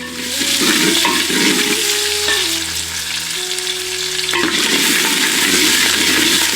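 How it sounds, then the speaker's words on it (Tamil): Loud, steady sizzling of onions and curry leaves frying in a pan for sambar, with occasional stirring scrapes, continuous throughout and no voices. "வெங்காயத்தை நல்லா வதக்கிடுவோம்"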